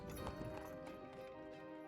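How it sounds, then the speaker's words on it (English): Horse hooves clop on cobbles in a yard in a video game, a quick run of near, moderately quiet hoofbeats with a rolling carriage-wheel rumble beneath. "You hear the sound of wheels and hooves against the cobbles in the yard"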